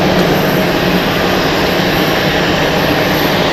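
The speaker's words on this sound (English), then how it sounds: "Oh, Swiss taking off." A Swiss Airbus A321 takes off at Zurich Airport, its jet engines producing a loud, steady, broadband roar that fills the whole clip without a break.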